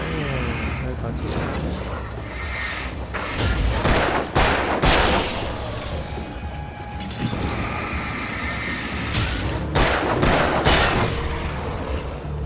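Bursts of gunfire in the Alan Wake video game, dense and loud, mixed with a rumbling roar and clatter of game action, with a voice talking over it throughout.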